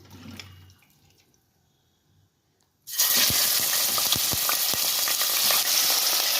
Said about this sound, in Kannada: ಎಣ್ಣೆ ಕಾದಿದೆ. ಇವಾಗ ಮಟನ್ ಹಾಕ್ಕೊಳ್ಳೋಣ ನಾವು.